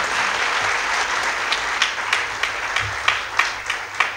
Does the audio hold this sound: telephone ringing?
no